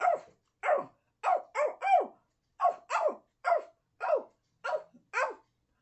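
A dog barks eleven times in a steady, evenly spaced series of sharp, loud, close barks with clean silence between them and no talk.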